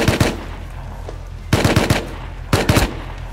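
Gunfire in the survival game Rust comes as three close, loud bursts of rapid automatic shots, each burst a few quick cracks spaced about a second apart.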